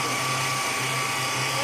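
An electric blender runs steadily, whirring as it blends potato pancake batter with egg and garlic, loud and continuous throughout.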